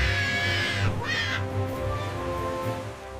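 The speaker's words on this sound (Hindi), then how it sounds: "तोता चीखता है" A cartoon parrot screeches in harsh, raspy cries, loud and close, two strong calls followed by fainter ones over a dense layered musical background.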